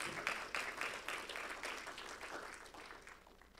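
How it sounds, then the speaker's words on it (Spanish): Audience applause during a Spanish-language church sermon, a steady wash of many hands clapping together that begins firmly, swells in loose waves and slowly tapers away, with no voices over it. "Den ese aplauso fuerte a Él en esta hora."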